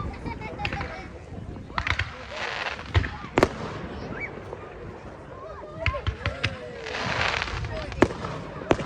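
New Year fireworks burst over Orange, New South Wales, with a run of sharp bangs and crackling pops at irregular intervals, some loud and close, over background crowd noise and voices.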